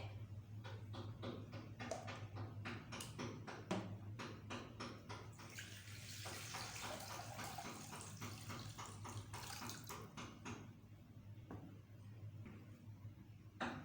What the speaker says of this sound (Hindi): अब ये जो हमने पानी का जग ऑलरेडी फिल करके रखा था इसको हमने यूज़ करना है